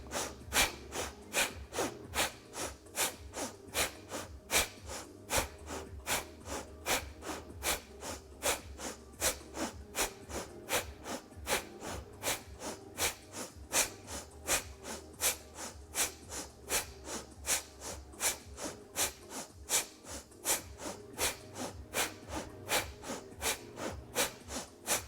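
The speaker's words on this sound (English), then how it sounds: "we're going to do that same breath again, breath of fire, using the belly to move the breath" Breath of fire yoga breathing through the nose, driven by the belly: fast, evenly spaced sharp nasal exhalations pulsing in a steady rhythm, close and clear, with no talking.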